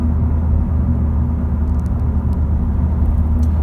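A 2017 Honda Civic SE Plus with the DTEC diesel engine cruises along a road, giving a steady, close, low rumble of engine and tyre noise with no talking.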